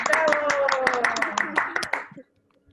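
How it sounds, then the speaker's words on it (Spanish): Several people clap from their homes for a guest on a Zoom video call, a busy burst of handclaps lasting about two seconds, with a voice speaking over it before it stops abruptly. "Démosle un aplauso a nuestra invitada de entrada"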